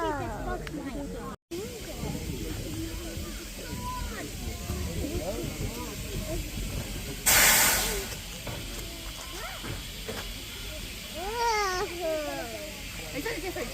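Steam locomotive at Avon Valley Railway lets out a single loud, broad hiss burst of about a second midway, over steady station bustle with children's voices and chatter throughout.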